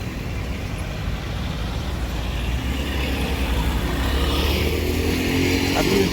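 Street traffic in Almaty on a light rainy day near Arbat walking street, a continuous wash of passing cars, trucks and motorbikes with rising engine hum as vehicles pull away at a changing light.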